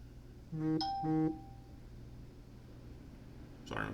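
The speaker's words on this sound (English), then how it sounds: "my phone's going off" A mobile phone goes off nearby with two short bursts of electronic tones, followed by quiet room noise and a faint clatter at the end.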